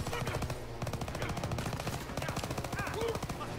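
Rapid automatic gunfire in the World War II shooter Call of Duty WW2, long bursts of machine-gun shots rattling almost without pause, loud and dense.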